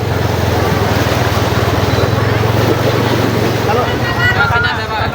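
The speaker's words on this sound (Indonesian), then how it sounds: "Ada air bah turun." A flash-flood torrent rushes down during a landslide in Banjarnegara, a loud, unbroken roar of churning water with wind buffeting and voices beneath it.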